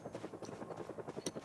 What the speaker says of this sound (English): yeah, that's definitely a helicopter.